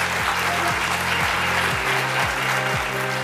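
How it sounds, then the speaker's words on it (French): Sustained applause from a film festival audience at an awards ceremony, steady and dense throughout, with a repeating low musical pattern underneath. "Vous pouvez de nouveau l'applaudir."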